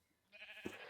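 A sheep in a modded video game gives a short, faint bleat, one brief quavering call.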